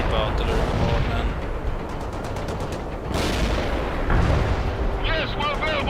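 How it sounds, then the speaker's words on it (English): Artillery bombardment in the strategy game World in Conflict: dense, rumbling barrages of heavy shell impacts and gunfire roll continuously, with sharper blasts and crackling bursts breaking through, while game voices chatter over the battle. "This guy's getting hit by artillery bombardment."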